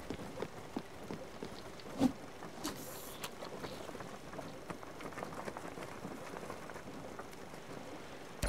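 Steady rain falls in the video game Spiritfarer, a soft, even hiss of drops spread evenly throughout, with a brief louder tap near the start and no talk.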